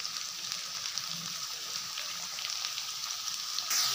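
Big onions and garlic sauté together in a pan. The sizzle is steady and crackling at moderate loudness, with a soft patter running throughout. There is no talking.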